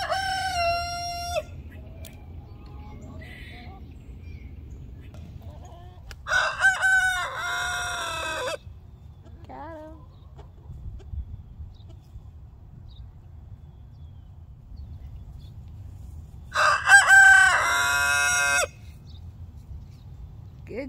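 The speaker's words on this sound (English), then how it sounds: "if I do get that crowing from him, I will catch it on video" A rooster crows three times during a winter storm, the calls loud and close and spaced far apart over a low, steady background rumble.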